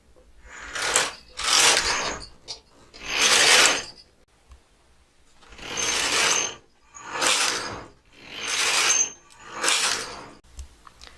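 A knitting machine's carriage is pushed back and forth to knit an i-cord, making seven loud, rhythmic mechanical sweeps, each a rattling whoosh lasting about a second, with short pauses between them.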